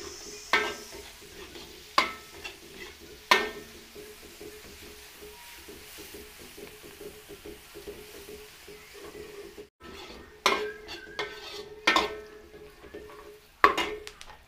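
Onions frying in a pan with garlic for a Filipino dish, a soft steady sizzle broken by sharp scrapes and clatters of a spatula stirring against the pan, no talking.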